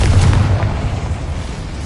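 A Confringo blasting spell explodes in the video game Hogwarts Legacy, a loud, deep boom right at the start that rumbles on and slowly fades over the next second and a half.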